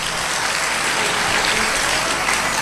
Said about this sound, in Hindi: ऐसी बहुओं को और ऐसे बेटों के लिए जोरदार ताली बजाएं